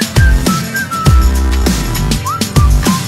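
A person whistles a short melodic phrase over a chill trap beat with heavy, punchy bass kicks, the whistle sliding and gliding between notes near the front of the mix.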